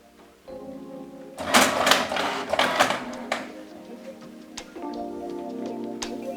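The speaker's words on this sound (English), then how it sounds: "I start my photo print test with the 4-color printer" A Canon PIXMA four-colour ink printer with a continuous ink supply prints a photo: a motor hum starts, then loud rattling, clicking mechanical bursts peak midway before settling back into a steady whirring drone.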